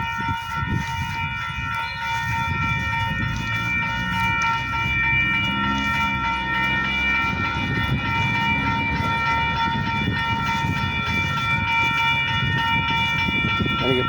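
Two trains roll past at once in the same direction, a continuous rumble and clatter of railcars with a steady horn tone held over it, close and loud for the whole stretch.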